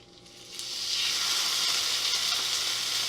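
Steaks sear on a hot griddle for a sous vide steak, a loud steady sizzle swelling in after a soft start and holding broad and close with no talk.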